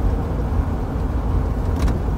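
A 1966 Chevrolet Corvette driving off after a gear shift, its engine giving a steady, loud, continuous rumble with road noise and no clear rise in revs. No talking.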